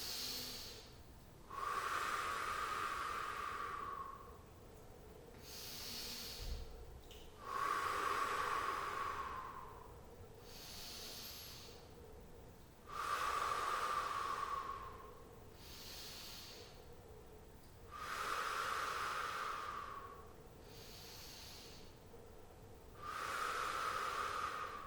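Slow, deep breaths during a mum and baby yoga class, each long airy inhale or exhale swelling and fading in a steady rhythm, five breath cycles close and alone with no talk.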